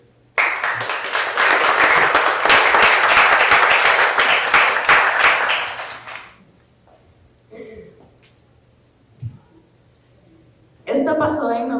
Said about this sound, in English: Give another round of applause to Lick.